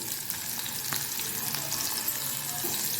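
Shallots, ginger, garlic and green chillies sautéing in a pan for coriander leaf chutney, with a continuous close sizzle and occasional faint stirring clicks, no voices.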